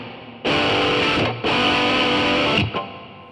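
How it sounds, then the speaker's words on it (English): Electric guitar through an AmpliTube 4 MESA/Boogie amp simulator with spring reverb, two loud sustained chord strums separated by a brief pause, each ringing out before a short tail. "Oh, you have the spring reverb."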